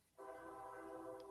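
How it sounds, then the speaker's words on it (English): A train sounding its horn somewhere in the background, a steady sustained multi-tone blast that starts abruptly and holds for over a second. "Oh, do you have a train, True Crime Wifey?"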